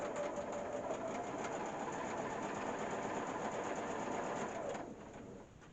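A sewing machine runs steadily for about five seconds, stitching an outdoor sofa cushion cover, then slows and fades to a quieter hum near the end.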